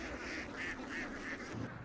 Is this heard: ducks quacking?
yes